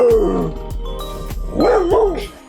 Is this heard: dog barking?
yes